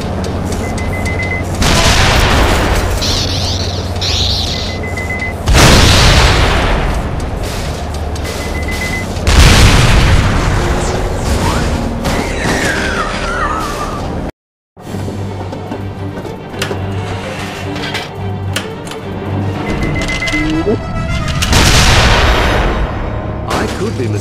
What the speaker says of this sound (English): When empty the droid is, explode it will.